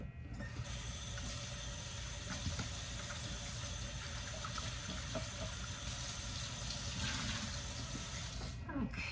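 Tap water runs steadily while hair is being washed, a close, continuous hiss that lasts almost the whole time and stops abruptly near the end.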